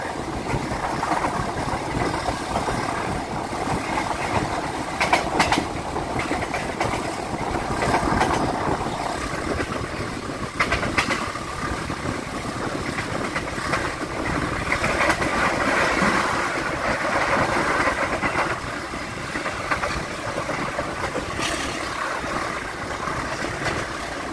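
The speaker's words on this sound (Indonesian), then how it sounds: "kereta api Dharma Wangsa saat ini telah sampai di stasiun Tanjung" The KA Dharmawangsa economy passenger train on the Surabaya–Jakarta line rolls along the rails, a steady loud rumble and rattle with faint clatter, continuous throughout.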